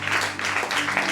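Brief burst of applause from a congregation during a church Bible teaching, a steady wash of clapping over a low hum, with no one speaking.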